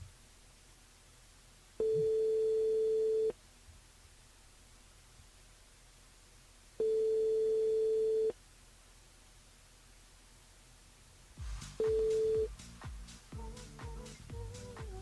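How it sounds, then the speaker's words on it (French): A telephone line tone during a live radio call-in show, loud and steady, sounding in three long beeps with silent gaps between them, the last cut short as broadcast music and noise take over. "C'est le téléphone."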